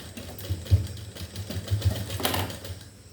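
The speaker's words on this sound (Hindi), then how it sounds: "आराम से इसको ऐसे करके ऐसे आपको सिलाई लगाना है" A sewing machine stitches a shirt in short, uneven bursts of rapid mechanical clatter, close and fairly loud, with pauses between runs of stitching.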